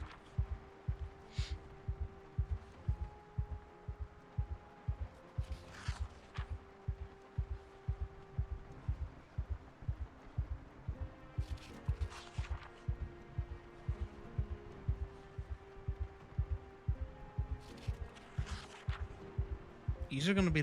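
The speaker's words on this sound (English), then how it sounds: "You're going to be listening to this heartbeat a lot" Heartbeat sound effect from the zombie survival video game Project Zomboid, a steady, fast, low thumping pulse repeating throughout, with a faint hum and occasional soft game noises and talk in the background.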